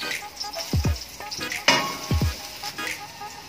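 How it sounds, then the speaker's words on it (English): Garlic and ginger sauté in a pan with a steady, close sizzle, punctuated by stirring scrapes and two pairs of low, swooping knocks. "First, saute the garlic."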